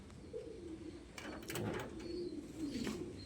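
Pigeons cooing inside a loft where fancy breeds roam free, soft repeated low coos rising and falling across the moment, with a few brief sharper wing or movement noises in between.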